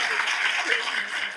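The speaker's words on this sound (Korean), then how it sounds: "박수 한번 우리" Brief burst of audience applause for film director Hirokazu Kore-eda at a Korean Q&A screening of Shoplifters, a dense steady wash of clapping with a few voices mixed in.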